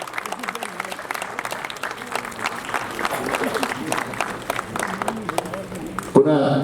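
An audience at a Patel Raas Mandali folk arts gathering in Latipur applauds to welcome a guest, with steady crowd clapping lasting several seconds, a voice speaking over it and a louder burst near the end.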